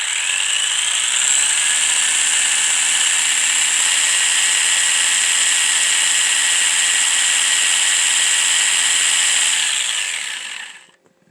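A 1/18 scale Haiboxing Ford Bronco RC car's electric motor whines at a steady high pitch for about ten seconds, loud and close, then spins down and cuts off at the end.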